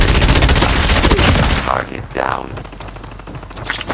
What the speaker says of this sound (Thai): เนี่ยเราสาดกระสุนแบบนี้เราก็